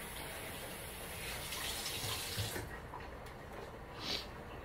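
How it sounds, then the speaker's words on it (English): Water pours steadily into a pot of simmering New Orleans-style curry chicken, a close, continuous splashing gush that swells slightly near the end, with no talking. "I'm adding a little bit more water to that."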